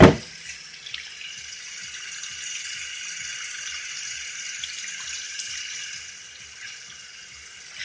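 Water running steadily over a car alternator during a cleaning rinse, a continuous broadband splashing flow that holds for several seconds with a faint low rhythmic patter beneath, fairly close and with no talking.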